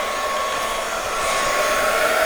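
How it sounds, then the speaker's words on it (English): Heat gun blowing hot air for embossing on a craft wand: a steady loud close whooshing roar held without a break, no voices. "I'm just going to put my heat gun on, and I'm going to take it over"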